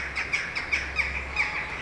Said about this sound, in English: You can hear the ravens now.